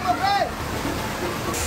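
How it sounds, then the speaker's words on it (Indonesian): Flash floodwaters of the Cipagar River in Cirebon Regency rush in a steady, loud wash, with a voice speaking over the torrent. "banjir bandang luapan Sungai Cipagar Kabupaten Cirebon menerjang 5 kecamatan"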